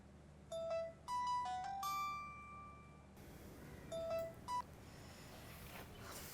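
A phone call connects with a short series of electronic beeps and tones, faint and thin like audio heard through a handset, repeated after a pause, with no talking.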